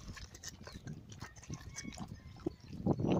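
A pig munches pomegranates and strawberries, wet chomping and smacking close up, irregular bites with soft snorts and grunts, no talking.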